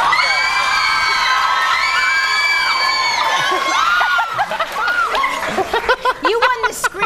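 A crowd of fans screams and cheers in a loud, sustained wall of high-pitched shrieks that breaks into scattered whoops and laughter toward the end.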